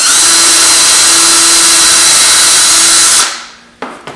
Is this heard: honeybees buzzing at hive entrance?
no